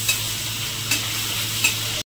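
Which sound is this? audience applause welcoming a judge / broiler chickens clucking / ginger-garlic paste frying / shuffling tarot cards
ginger-garlic paste frying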